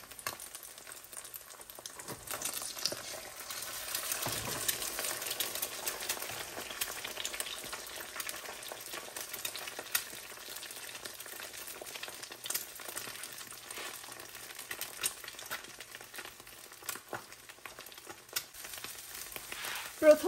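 Beaten eggs cook as an omelet in a pan with a soft, steady crackling sizzle for about twenty seconds. It stays fairly quiet and close, with no speech.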